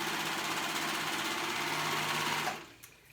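A sewing machine runs steadily as it stitches fabric together for a ruffled-back top, with a dense, even mechanical whir that continues close and loud for most of the span, then stops abruptly, leaving quiet handling noise.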